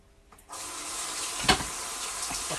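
A kitchen tap is turned on and runs steadily for hand washing, a close, continuous splashing rush into the sink with one brief louder splash partway through.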